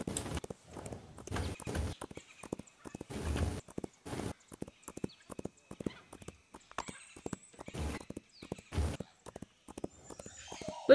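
Horse hooves clip-clop in the Roblox game Wild Horse Islands, a steady run of close, crisp hoofbeats in uneven bursts, with a few whinnies mixed in near the end.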